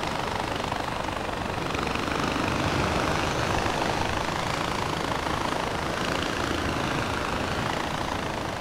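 A helicopter's rotor and engine drone steadily and loudly in the Far Cry 4 video game, a dense continuous roar that holds at the same level for the whole stretch with no talking.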